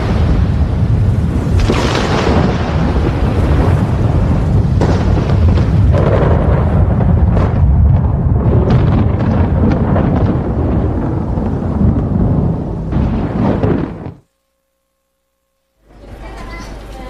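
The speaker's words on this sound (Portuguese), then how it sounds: "Um raio foi criado." Loud, rolling thunder from a lightning strike rumbles and cracks in repeated surges for about fourteen seconds, then cuts to silence before a fresh low rumble returns.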